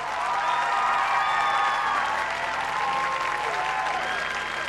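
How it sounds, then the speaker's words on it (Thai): A television singing contest audience claps loudly for a contestant at a results show, sustained dense applause with faint crowd cheering underneath, steady throughout. "ผมขอเสียงปรบมือให้คุณน้องด้วยครับ"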